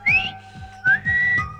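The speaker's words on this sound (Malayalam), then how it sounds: "ആ കാലമാടം പല്ല് പറിച്ച ശേഷം ഇങ്ങനെ ഒരു സൈഡിൽ കൂടി വിസിൽ വെക്കൊണ്ടിരിക്കും" A man whistles through the gap left by a pulled tooth, producing a few short, shrill, wavering notes in quick succession, close and clear against a quiet background.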